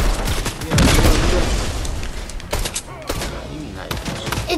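Rapid gunfire in Fortnite, dense bursts of shots and booms crowding together loudly, then sparser cracks trailing off, with game noise throughout.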